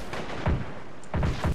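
Gunfire crackles through a war strategy video game battle between U.S. troops and North Korean and Chinese forces at an airbase. A few sharp, loud shots land in two small clusters with a short gap between them, with no talk.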